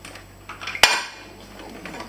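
Blended mushy peas scraped from a blender back into a cooking pot for fish and chips, heard as one sharp metallic clatter of utensil on pot, followed by faint scraping.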